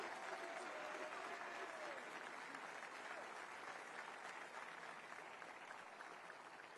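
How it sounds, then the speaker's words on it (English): A large crowd applauds steadily for Marine units at a Marine Corps 250th anniversary event, a dense, sustained clapping wash that slowly tapers, heard from a distance. "Let's give a round of applause to the incredible job they did."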